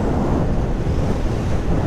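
Wind roars across the microphone of a rider on a 2022 BMW R1250R SE motorcycle with no front fairing, a loud, continuous low buffeting rush with no voices.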